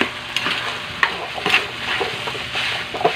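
Malunggay fried rice stirred in a pan, a spatula scraping and tapping against the metal in irregular strokes over a soft continuous sizzle, close up with no talk.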